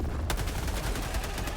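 Rapid gunfire and blasts from the shooter game Helldivers 2: a dense, loud stretch of repeated shots with one sharp crack standing out near the start.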